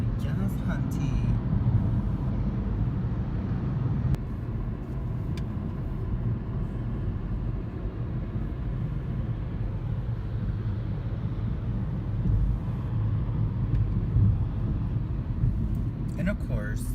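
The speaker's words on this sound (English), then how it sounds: "LA traffic at 6 in the morning" Early-morning road traffic in Los Angeles hums as a steady, dense rumble of cars and engines, continuous and moderately distant, with a few faint clicks and brief higher noises over the wash.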